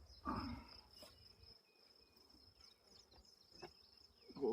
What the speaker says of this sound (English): Got a bunch of bees.